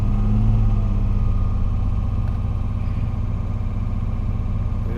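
A 1961 Mercedes-Benz 220Sb W111 Heckflosse engine idles at about 950 RPM, a steady, close, low rumble holding evenly throughout with no voices.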